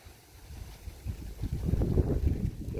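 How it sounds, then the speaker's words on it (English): Gusty outdoor wind rises into a stronger, rushing buffet that rumbles across the microphone, growing louder toward the end, with no talk. "The wind's kicking up here."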